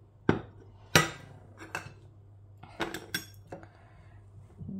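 Spoons and metal utensils clink and tap against a bowl as turmeric, garam masala and paprika powder go in while cooking chilli chicken, giving a few sharp, close knocks with quieter scraping between them.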